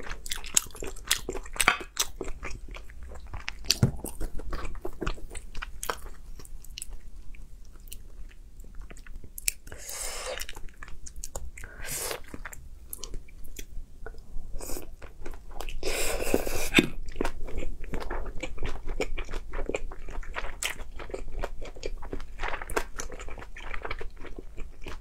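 Soft, glutinous Chinese food is chewed and bitten close to the mic in an ASMR eating show, with continuous moist chewing, repeated small crunchy bites and louder squishy stretches partway through.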